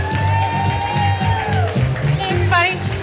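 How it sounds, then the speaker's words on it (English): At a Bay Area gala, an audience cheers and whoops loudly with a broad crowd roar, some applause mixed in and voices shouting over the noise. "Give them a big round of applause."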